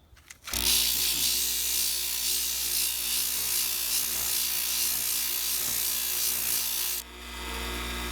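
A lapidary wheel grinds and rounds the edges of a cabochon stone, giving a steady, loud abrasive whir with a constant motor hum that runs for about six seconds before the grinding stops.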